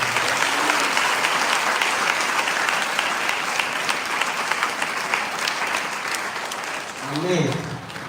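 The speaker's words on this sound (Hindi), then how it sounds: "तो जोर से यीशु मसीह के लिए ताली बजाएंगे।" A church congregation at Sunday worship claps for Jesus Christ, a dense, loud, continuous wave of applause that fades slightly before a short swell near the end.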